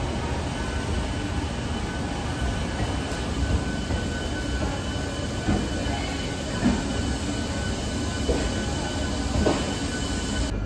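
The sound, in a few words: Darjeeling Mail train departing Bardhaman junction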